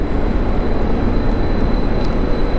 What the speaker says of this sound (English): So, this is my train back to my travel lodge in Ipswich.